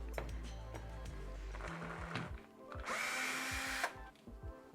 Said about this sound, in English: I know I'm upsetting some people by using a drill.